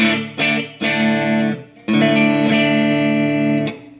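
Dry electric guitar chords through a JHS Alpine pedal with the reverb off, struck in separate ringing strums that sustain and then stop cleanly, with only faint natural room ambience in a large room.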